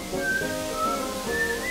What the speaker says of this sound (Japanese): なんか口笛吹きよ。